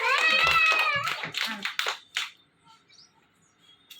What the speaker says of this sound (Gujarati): તાળી પાડો ધાર્મી બેન ની બેટા